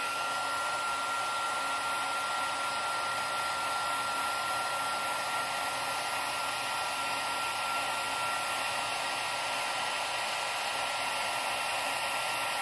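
A heat tool blows steadily without a break, melting embossing powder on a handmade card. The airy whoosh sounds close and even and carries on alone from start to finish, with no talk over it.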